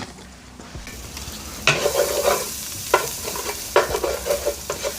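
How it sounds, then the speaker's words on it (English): Butter and garlic sizzle in a hot pan with chicken fond, with several loud bursts of frying as a utensil stirs and scrapes, close and with no talk. "We're gonna let 1 tablespoon of butter melt. And we're also gonna add in that tablespoon of garlic."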